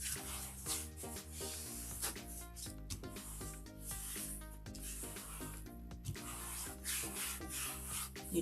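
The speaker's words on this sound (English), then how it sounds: "You just really want to burnish that felt in." Felt rubbed firmly onto a cutting mat to burnish it down, giving close, repeated scratchy rubbing strokes under soft background music, with no voices.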